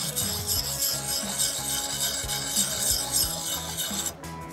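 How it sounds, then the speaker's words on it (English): Sharpal card-size diamond sharpener rasped back and forth along an axe blade, a continuous gritty metallic filing with rhythmic strokes, close and fairly quiet, no voices. "glide the tablet across the edge of the blade like a file"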